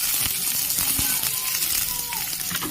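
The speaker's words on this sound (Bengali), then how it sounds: "আমি পেঁয়াজ কুচি দিয়ে দিলাম। একদম হালকা করে ভেজে নেব।" Chopped onion frying lightly in a pan, a steady soft sizzle with scattered small crackles and pops running throughout at close range.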